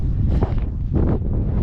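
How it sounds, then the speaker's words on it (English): Gusts of wind buffet the microphone on a mountain summit, loud and rumbling in uneven surges across the short stretch. "it's getting windy"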